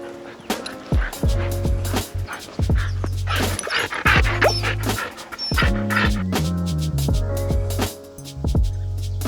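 Strong dogs on a walk pant and bark close by, with brief yips and whimpers scattered through a busy, continuous outdoor soundscape.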